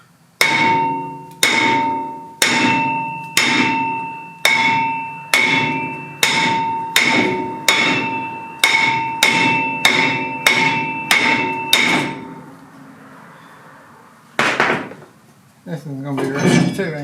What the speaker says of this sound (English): I don't know if I got any strength to swing a hammer now.